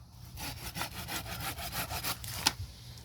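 Steady back-and-forth strokes of a hand saw biting through a pine tree trunk, rhythmic and close, with a sharp crack near the end.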